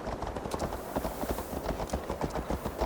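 Galloping horse hooves in an Assassin's Creed Valhalla race pound in a fast, steady rhythm, close and continuous with no talk over them.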